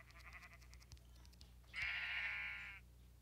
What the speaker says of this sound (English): I don't know why that sounds like two sheep.